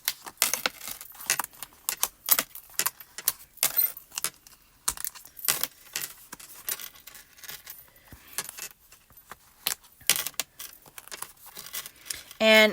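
Die-cut paper pieces from a craft club kit, including tiny thimble and scissors shapes, are pressed out by hand, giving repeated sharp crackles and soft tearing pops in irregular bursts while someone talks.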